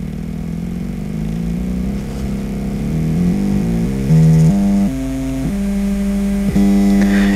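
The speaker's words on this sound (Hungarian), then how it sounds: "és a motor forgása gyorsul." A small 28BYJ48 stepper motor on a driver board whirs continuously and loudly nearby, its tone stepping upward in distinct jumps as its spin speeds up, with no speech.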